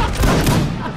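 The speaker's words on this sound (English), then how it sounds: "Ripple fire!" Re-enactors of a Brandenburg artillery brigade fire a ripple volley of muskets, a short rolling burst of overlapping booming shots that blur together and then fade.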